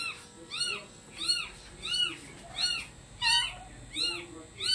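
Repeated thin, high-pitched meows from kittens, about seven calls at a steady pace, fairly quiet with faint background noise between them.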